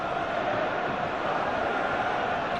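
Football crowd at a Celtic v Hearts match applauding striker John Hartson as he is substituted after scoring, a steady, dense wash of stadium applause and crowd noise sustained throughout without breaks.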